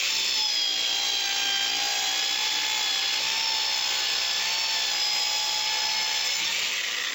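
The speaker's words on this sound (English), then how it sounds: "What I'm going to do now is I'm going to cut backwards and forwards." A counter-rotating power saw with ruler and laser guide cutting through wood, pushed backwards and forwards: a steady, loud, high-pitched whining buzz with a constant tone that runs unbroken and close for the whole stretch, with no talk.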